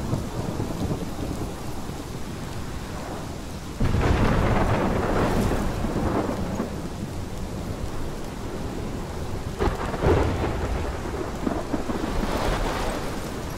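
Thunderstorm with steady rain in the video game Life Is Strange, constant downpour hiss broken by two loud thunder rumbles, one near the start and another later.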